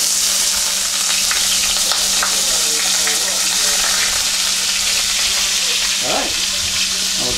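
Venison sizzling in a sauté pan, a steady dense hiss of frying that fills the whole stretch, with a faint scrape of stirring and a brief watery swirl near the end.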